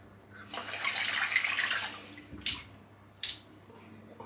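Running tap water splashes as a razor and face are rinsed after a shave with a Gillette Labs exfoliating bar razor, a close, soft hiss of water followed by two brief splashes.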